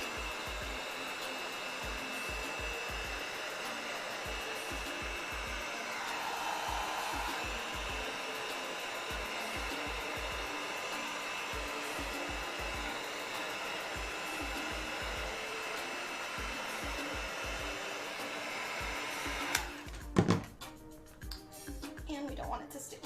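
Heat gun blowing hot air onto insulation foam during cosplay armor crafting, a steady close whooshing hum that runs unbroken for about twenty seconds before switching off, with speech heard over it.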